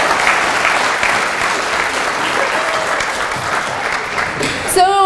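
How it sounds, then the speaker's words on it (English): Sustained audience applause at a chamber of commerce annual meeting, steady dense clapping filling the room for several seconds with a brief voice near the end. "So a big hand of applause to all the people that put this night"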